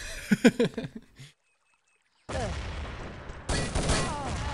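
After a brief voice and a moment of silence, a competitive video game match bursts into a grenade exchange and gunshots: loud sustained blasts and firing that return in two waves.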